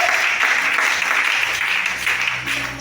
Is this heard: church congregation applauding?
yes